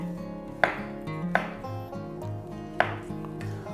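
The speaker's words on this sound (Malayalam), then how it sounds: "ബാക്കിയുള്ള മഷ്റൂം നമുക്ക് റഫ്ലി ഒന്ന് കട്ട് ചെയ്ത് ഇതിലേക്ക് ഇടാം." A knife roughly chopping mushrooms on a board for hot and sour chicken soup, three or four sharp, spaced chops standing clearly over quiet background noise.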